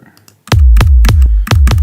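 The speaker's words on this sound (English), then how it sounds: "That definitely is a trance kick." A trance kick drum in a music production session, five punchy booming hits in a quick steady pulse after a brief soft lead-in, loud and close with no voices.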